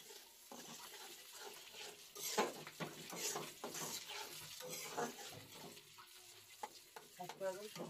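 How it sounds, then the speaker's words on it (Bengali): Turmeric, chili powder, cumin powder and salt sizzle in a hot pan for prawn bhuna, crackling frying broken by scraping stirs of a spatula, close up and uneven in loudness. "এখন মশলা কষাইছে"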